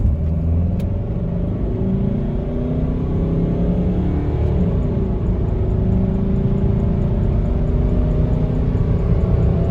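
Mapped Mercedes C220 CDI diesel accelerating, a steady low engine drone with rumbling road noise and gradually shifting tones, heard from inside the car without talking.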